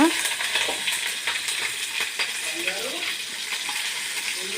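Mustard seeds and green chillies sizzle and spit in hot oil for pachi pulusu, a steady close crackle with occasional sharper pops and faint stirring, and no voice over it.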